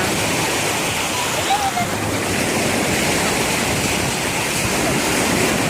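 Waves on a Turkish beach make a constant close rush of surf with wind buffeting the microphone, and a faint voice briefly sounds beneath the water noise.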